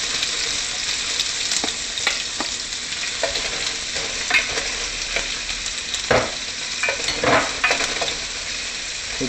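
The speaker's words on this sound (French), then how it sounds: "Maintenant, notre huile chauffe, on va mettre nos oignons." Onions frying in heating oil for spaghetti sauce give a steady close sizzle, broken by intermittent scrapes and clinks of stirring in the pan.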